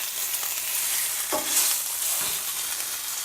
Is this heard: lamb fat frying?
yes